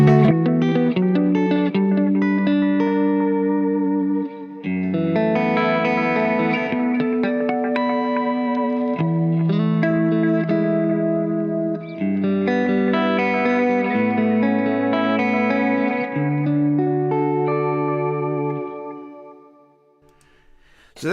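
An electric guitar, a Kramer SM1, played through compression, delay, modulation and reverb, strummed chords ringing with echoing, shimmering tails over about twenty seconds before fading out.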